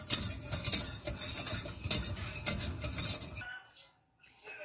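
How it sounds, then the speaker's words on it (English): A utensil scrapes and clinks rhythmically against a pan while white sauce for lasagna is stirred, a close, busy scraping that stops abruptly near the end, followed by near silence. "Just continue stirring until it's sticky."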